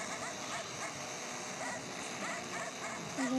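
Dogs bark and yip in a video game, repeated yaps blended into a dense, busy game soundtrack at moderate level.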